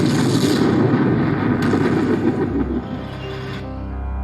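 Bullets strike Cameraman Strider in a Skibidi Toilet animation, a loud dense volley of booming, crackling gunfire that thins out and fades to a low rumble.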